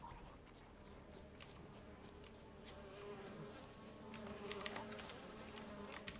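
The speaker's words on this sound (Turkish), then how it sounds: "Bana mı geliyorlar onlar? O kara sinekler." Housefly buzzing in The Witcher 3 video game, a steady insect drone running continuously under other faint game ambience at low volume, with no talking.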